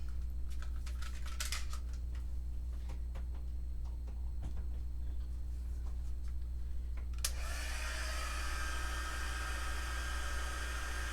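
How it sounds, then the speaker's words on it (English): A heat gun heat embossing a card: a steady blowing hiss that swells sharply louder about two-thirds through, with faint ticks and paper handling underneath and no voices. "now we're just going to take the heat gun and heat emboss that"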